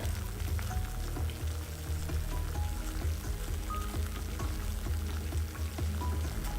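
Sixteen ounces of water at a rolling boil in a pot on an alcohol stove, a dense, steady bubbling and hiss, close and unbroken with faint ticks throughout.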